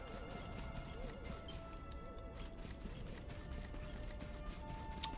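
In Dragon Quest 11, a horse's hooves clip-clop at a steady, rhythmic pace over a continuous layer of game music, with no talking.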